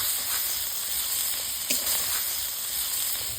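Whole spices, bay leaves, cinnamon and cardamom, sizzling in a pan of hot oil for an egg curry, a steady close hiss with a few faint pops and no voices.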